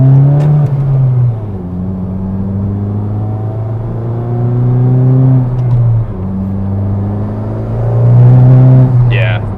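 A modified Honda Civic Type R with an aftermarket exhaust accelerating at about 20% throttle as its turbo spools. The engine note is loud and close, with a steady rising drone and gear-change dips, and nothing else audible over it.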